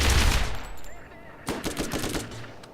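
Rapid bursts of gunfire in the Borderlands shooter game, a loud clustered volley at the start, then a second run of sharp shots after a brief lull.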